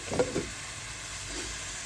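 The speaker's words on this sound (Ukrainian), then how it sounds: "А у нас сьогодні ми жаримо м'ясо." Meat fries in a pan at home, a soft steady sizzle with a couple of quick stirring scrapes near the start, moderately quiet and without voices.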